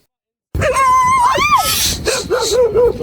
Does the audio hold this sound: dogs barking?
yes